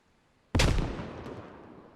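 A single grenade explosion in the tactical shooter Squad, on the Kokan map: a sudden, loud, close blast that fades into a long rumbling tail over about a second and a half, with no talking.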